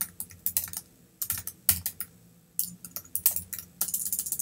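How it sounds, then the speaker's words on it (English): Typing on a computer keyboard in bursts of quick, close clicks separated by short pauses, with no voices. "So let's go ahead and type them in."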